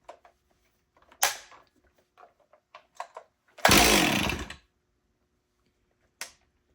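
A Stihl 026 chainsaw on full choke gives a few short sputtering pulls and clicks, then catches in one loud, harsh burst of about a second before cutting out, followed by a brief later blip.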